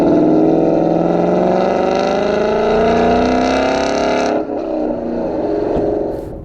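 A 2018 Mustang GT Coyote V8 with a Corsa Xtreme cat-back exhaust, deep and throaty, revs and holds loud and close, then drops back to a rumbling idle.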